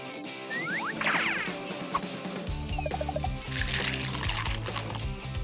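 Water poured for pets at a makeover of homeless animals, a close trickling pour with splashing over a steady background hum and some clatter.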